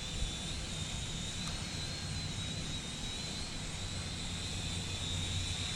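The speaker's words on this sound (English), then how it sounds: "You gotta kind of know the characteristics of a drone when it's flying in the wind and with the wind" A cheap toy drone flying in wind gives a steady, continuous high-pitched propeller whine with an even level throughout, backed by low rumbling wind buffeting, and no talking.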